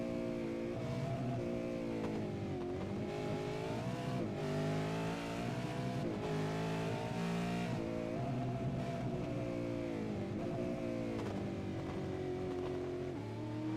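Race car engines in an iRacing Bathurst 1000 broadcast rev and accelerate continuously, a loud buzzing multi-cylinder drone with rising and falling pitch as gears change, several cars blending together without pause.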